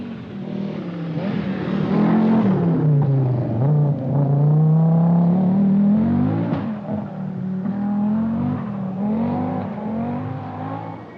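Per Eklund's privately entered Audi rally car on a stage of the 1985 Lombard RAC Rally, its engine loud and close, revs swelling and dropping continuously with no talk.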